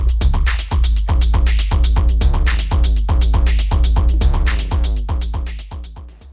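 No-input feedback noise from a Sherman Filterbank with its feedback circuit, sampled into a drum machine, pulses in a loud, steady rapid rhythm of sharp gritty hits with ringing low tones, running alone throughout.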